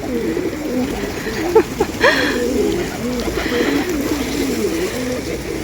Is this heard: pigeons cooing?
yes